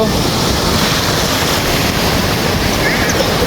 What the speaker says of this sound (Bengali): সমুদ্রের বড় ঢেউগুলো আছড়ে পড়ছে, চমৎকার দৃশ্য।